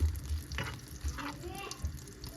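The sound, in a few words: butter melting and frying in pan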